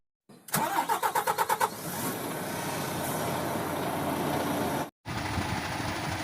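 A refrigerated truck's diesel engine cranks with a rapid run of starter pulses, catches, and settles into a loud, steady idle up close, with a brief cutout near the end.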